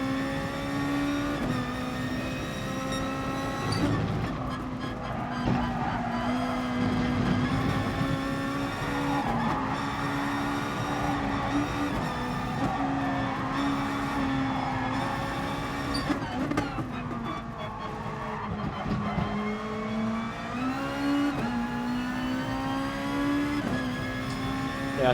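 A race car lapping a track in Gran Turismo Sport, its engine holding a steady high drone that rises and dips with gear changes and braking, running continuously with no talk over it.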